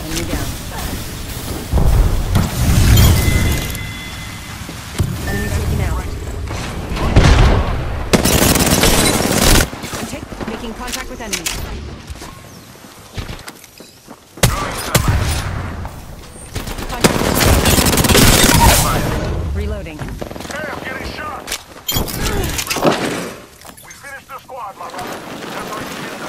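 Apex Legends ranked match gunfire: bursts of automatic weapon fire and single heavy shots come in several loud clusters, separated by quieter stretches with game sounds, as players talk over the action.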